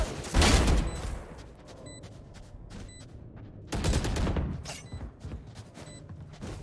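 AK rifle fire in the tactical shooter Valorant, during a bomb-site retake in a tournament match: two loud bursts of rapid automatic shots, the first early and a second around midway, with quieter game sounds between them.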